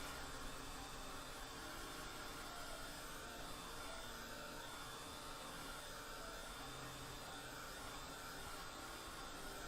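A hair dryer blowing steadily on a watercolor mistletoe ornament card, a continuous even rush of airflow that stays constant throughout with no breaks.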